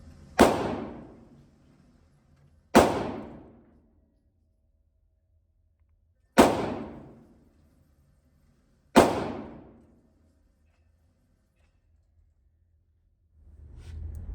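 Four sharp pistol shots fired at 5 yards ring out alone with pauses of several seconds between them, each with a short decaying tail, and a fainter thump rises at the very end.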